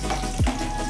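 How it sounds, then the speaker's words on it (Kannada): Onions sizzle in hot oil as they drop into the pan for a vegetable gravy, giving a short, close crackle over a steady frying hiss. "ಎಣ್ಣೆ ಕಾದಿದೆ. ಈರುಳ್ಳಿ ಹಾಕೋತಾ ಇದ್ದೀನಿ."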